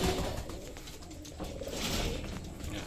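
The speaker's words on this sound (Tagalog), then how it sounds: "malakas na yung ibon kaya pwede na natin siyang pawalan" Racing pigeons cooing and calling steadily during release for their first road training of the summer season, with a continuous fluttery, rustling bird ambience close by and no speech.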